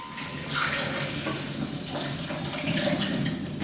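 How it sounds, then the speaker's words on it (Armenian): Milk poured over banana for a shake, a continuous splashing, gurgling pour that stays fairly steady and close for a few seconds, without talk. "Լցնում ենք բանանը, այնուհետև ավելացնում ենք կաթը։"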